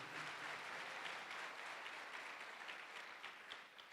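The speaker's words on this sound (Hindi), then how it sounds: "परमेश्वर को हाथ ताली बजा के परमेश्वर को धन्यवाद देते" A congregation claps in thanks to God, a dense, even wash of applause from many hands that holds steady throughout, fairly distant and soft.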